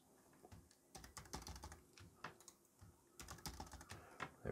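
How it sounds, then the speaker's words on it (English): Rapid bursts of typing on a computer keyboard, close and crisp, with clustered key clicks separated by brief pauses and no voices. "So if you wanted to type some text in,"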